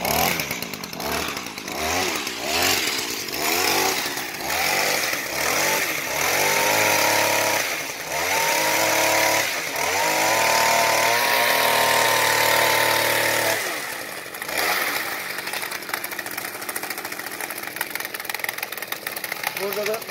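The small two-stroke engine of a Datsu GZJ 260 AE gas pole pruner buzzes loudly, revving up and down repeatedly, then holds a sustained high whine before dropping back to a rough idle.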